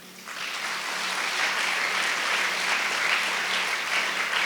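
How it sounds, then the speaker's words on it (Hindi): Congregation applause at a church service, a steady, dense wash of clapping from many hands that starts abruptly and holds at an even level throughout, with no voices over it. "अभी ताली बजाइए।"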